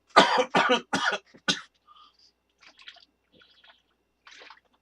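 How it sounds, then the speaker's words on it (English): Several harsh coughs come in a quick burst, close up, followed by faint throat noises and small rustles. "I don't know why I'm coughing so much all of a sudden"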